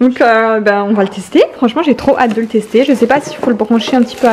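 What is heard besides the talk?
No everyday noise stands out behind the speech.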